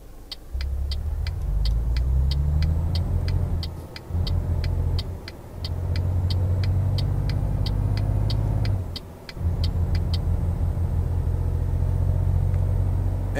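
Volvo VH16 8x4 truck engine in Euro Truck Simulator 2 while towing 62 tons, a loud, steady low rumble that dips briefly at gear changes, with a regular ticking like an indicator over it.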